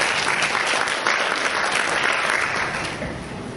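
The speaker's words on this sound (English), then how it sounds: "Let's give him a big round of applause here, Dr. John Law" Applause from a conference keynote audience welcoming a speaker, a dense, steady clapping that fills the room at full level throughout and tapers slightly toward the end, with no voices over it.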